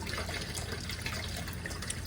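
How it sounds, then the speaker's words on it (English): Cold water runs from a kitchen faucet in a steady, soft rushing stream, continuous and fairly quiet, with no other sounds over it. "take the coldest water you can out of your faucet or filtered water"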